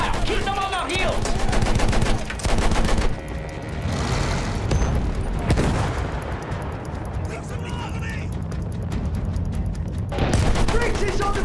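Suppressing gunfire in a WW1 tank battle at Cambrai in a realistic war video game: loud, dense bursts of rapid machine-gun fire with booming blasts, continuing in waves with brief lulls, while voices shout over the din.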